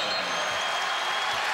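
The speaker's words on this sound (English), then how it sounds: "Crowd is going nuts." Basketball arena crowd at the 2016 Mountain West Conference final, Fresno State versus San Diego State, cheering and clapping loudly in a continuous roar after a fake move.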